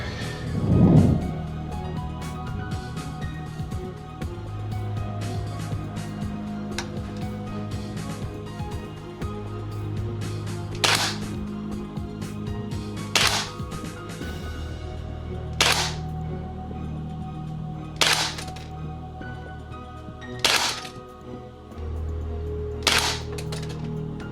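A limited edition M4A1 airsoft rifle fires single shots through a chronograph indoors, several sharp, evenly spaced snaps spread over the span, fairly faint against a low steady background hum.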